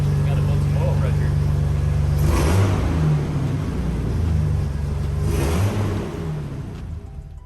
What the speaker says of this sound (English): I have a very skinny, tiny MagnaFlow muffler that dumps right after the skid, and I think that's what gives it the rumble.